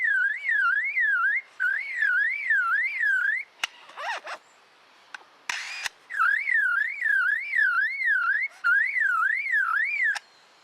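A lyrebird mimics a car alarm, cycling through a warbling, siren-like wail in repeated bursts, broken by short squeaky chatter in between.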